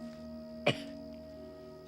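A young boy lying on his stomach gives a single short cough during a medical examination, close and brief against a quiet, faintly humming room.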